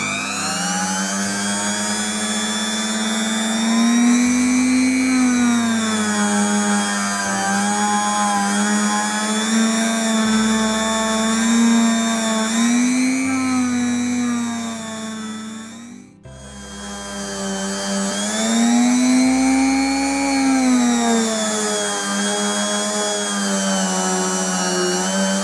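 A coin ring being polished on a motorised polisher, producing a loud, sustained tonal whine whose pitch swells and falls, with a brief dip midway before it resumes.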